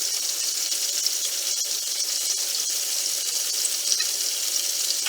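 Fresh peas or vegetables for a Maltese pea salad sear in a hot pan with a steady, hissing sizzle that holds constant and fairly close throughout.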